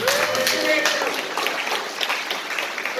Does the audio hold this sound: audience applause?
yes